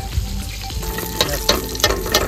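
Food sizzles and crackles in a hot pan, with periodic scraping stirs punctuating the steady frying.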